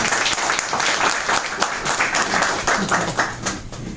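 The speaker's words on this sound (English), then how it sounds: "Give him a round of applause" A seated audience at a Lincoln MKC business presentation in Miami Beach gives a panelist a loud, dense round of applause, continuous clapping that fades slightly toward the end.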